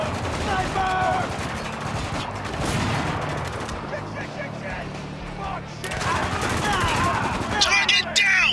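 Rapid bursts of automatic gunfire and explosions from the third-person shooter game Spec Ops: The Line, nearly continuous and loud, with shouted squad callouts and a commentator talking over the combat throughout.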